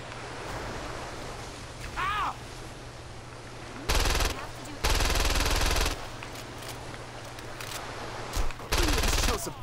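Bursts of automatic gunfire in the video game Saints Row 2 crackle in several loud, dense volleys of one to two seconds each over a steady background drone, with a brief voice-like chirp early on.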